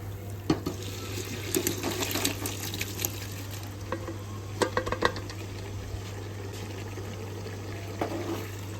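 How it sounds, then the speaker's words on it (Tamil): Cooked beef being mixed into a Kerala beef gravy in a pot, with soft wet stirring and scattered clinks of a utensil against the pan over a faint steady hum. "இப்போது இந்த டைமில் இந்த பீஃப் அப்படியே எடுத்து இதில் மிக்ஸ் பண்ணிக்கலாம்."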